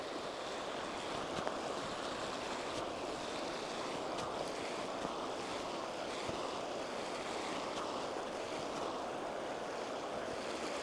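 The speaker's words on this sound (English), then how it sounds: "The wind is quite strong today." Strong wind blowing along a local river, a constant rushing whoosh with the muffled buffeting of wind on the microphone, steady and unbroken with no talking.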